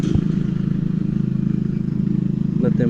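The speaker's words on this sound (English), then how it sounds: "Sorry about the lawnmower, that's the neighbors mowing" A neighbour's lawn mower drones steadily with a low, continuous engine hum throughout, coming from nearby but outside, constant in level.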